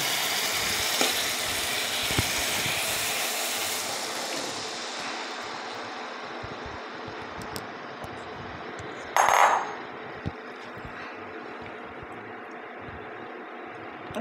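Kabuli chana chickpeas hitting hot oil, a bright sizzle that fades gradually over several seconds, followed by quiet frying, a brief clattering scrape and a few small clicks.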